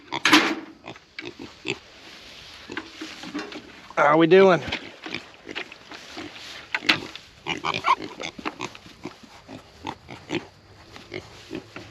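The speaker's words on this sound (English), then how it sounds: "What's up, pigs?" Homestead pigs grunt and squeal loudly close by in a pen, with a burst of shrill squealing in the middle, while someone talks over and between the animal noises.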